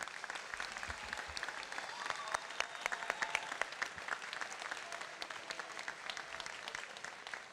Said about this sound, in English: one more round of applause for our honors students